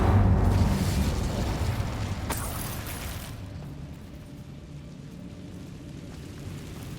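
Incendio fire spell cast in the game Hogwarts Legacy: a loud broadband roaring burst at the start, a second whooshing flare a couple of seconds later, then a fading low rumble.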